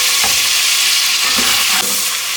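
Whole spices and ginger frying in hot oil, a loud, close, continuous sizzle with occasional stirring scrapes.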